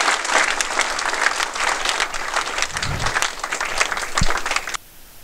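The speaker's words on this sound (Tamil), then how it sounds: "கைத்தட்டல் மூலமா கொடுங்களேன்," Students at an Engineers' Day event give loud, sustained applause that stays steady for several seconds before stopping abruptly, leaving a brief quiet moment.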